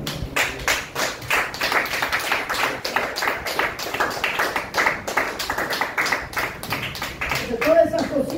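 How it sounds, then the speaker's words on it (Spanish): A church congregation claps in a steady, rhythmic beat during a service, the sharp hand claps fairly loud and continuous with voices faintly mixed in. "Dele aplausos a la Señora."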